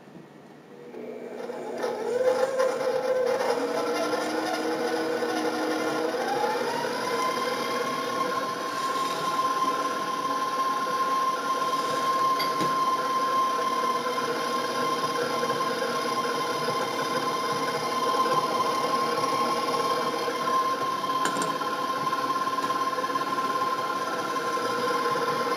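An electric mixer whips cheesecake cookie dough with egg whites. Its motor whines up over the first few seconds, then settles into a steady, even hum that runs uninterrupted for about twenty seconds, with no voices.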